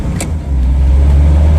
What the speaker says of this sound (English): so that we can get some driving around sound with the stock exhaust